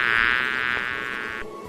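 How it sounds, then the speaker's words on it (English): Bee buzzing, a loud, steady, close drone from beating wings that runs on unbroken and then cuts off abruptly, leaving near silence. "We hear a bee buzzing when the bee moves its wings."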